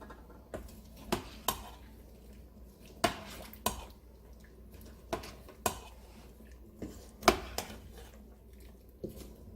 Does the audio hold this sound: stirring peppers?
yes